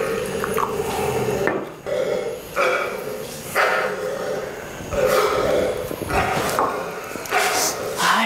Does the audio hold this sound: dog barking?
yes